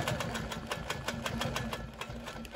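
A sewing machine free-motion quilts a feather medallion on a preprinted whole-cloth quilt, running steadily with a fast, even stitching pulse throughout, close and alone.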